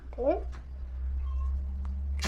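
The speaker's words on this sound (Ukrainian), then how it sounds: "Чемний котик." A cat gives a single short meow close by at a rural family home, heard over a steady low hum, followed by quiet background and a faint click.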